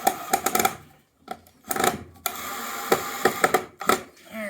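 Screws being driven into wood while a wooden target stand is assembled, with repeated bursts of a powered driver separated by short pauses and brief handling knocks, close and moderately loud.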